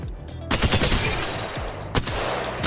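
Rapid gunfire rattles in the video game Apex Legends, a dense close burst of shots that starts suddenly and keeps going, with a few sharper cracks standing out near the end.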